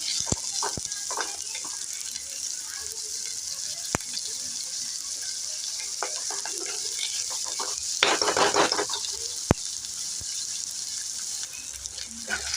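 Ingredients fry in oil for an egg palya, a soft continuous sizzle with occasional spatula taps and a brief burst of louder stirring midway, no voices.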